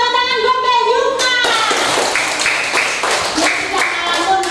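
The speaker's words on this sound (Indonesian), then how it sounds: "Tepuk tangan buat Mbak Zimna." A classroom of children gives a short burst of rhythmic clapping for a pupil, following a spoken cue, with kids' voices mixed in over the claps.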